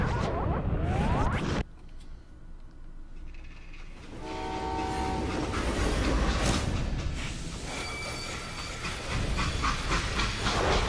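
Steam train in the Western shooter game Call of Juarez Gunslinger, with a loud rushing hiss and rumble, a brief sharp cut, then a whistle-like tone rising over continuous rolling rail noise.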